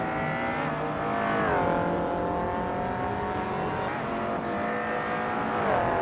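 A 2004 Lister Storm GT race car in a racing video game, its engine droning steadily at high revs with smooth pitch shifts as it eases off and climbs again, loud and close throughout.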